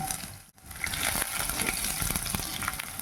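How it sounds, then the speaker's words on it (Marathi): Cumin, garlic, ginger and green chili fry over low heat in a pan, a dense, close crackling sizzle that briefly dips and then swells back, with no talking. "जिरे टाकून घेऊया लसूण घेऊया टाकून आले पण टाकूया त्याच्यामध्ये आणि मिरची टाकूया"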